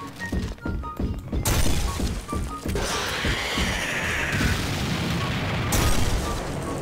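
A heavy boom bursts out after a few rapid thuds in Garry's Mod (FNAF 3 co-op mode), followed by a sustained crashing rumble and a second blast near the end.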